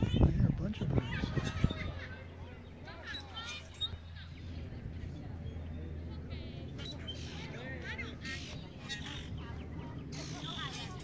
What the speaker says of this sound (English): I hear a bunch of birds.